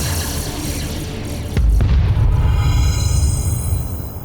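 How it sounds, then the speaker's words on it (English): A supernova explosion sound effect: a deep, loud boom that erupts suddenly and then rolls on as a sustained low rumble, with no voice over it. "when a star explodes in space, that kind of giant explosion is called a supernova"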